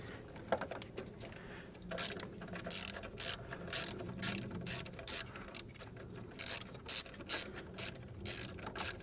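Ratchet wrench loosening a fastener during a spark plug change on an Audi SQ5 3.0L TFSI turbocharged V6 (CWGD), a series of quick, close clicking bursts in an irregular rhythm with short pauses between strokes.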